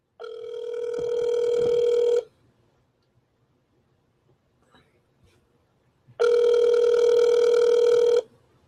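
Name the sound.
telephone ringing on an outgoing call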